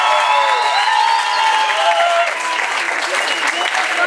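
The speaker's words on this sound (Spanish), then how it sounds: "Fuerte, fuerte el aplauso para la pareja número 3, por favor." Loud, sustained applause for a dance couple at a firefighters' day dance contest, dense clapping from a crowd with scattered cheers throughout.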